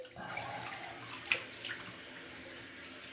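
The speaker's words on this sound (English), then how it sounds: "Let me rinse with some fresh water." A bathroom water tap runs for rinsing after a shave with a Speick shave stick, giving a steady, fairly quiet splashing flow into the sink after a brief start, with no talking.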